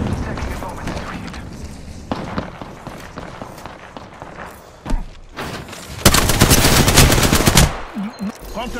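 Automatic weapons fire in the Apex Legends shooter game, with scattered single shots followed by a dense, loud sustained burst of rapid gunfire that then breaks off.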